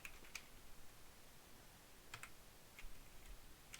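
Code is typed on a computer keyboard as a handful of faint, sparse keystroke clicks over a quiet background hiss, with no speech.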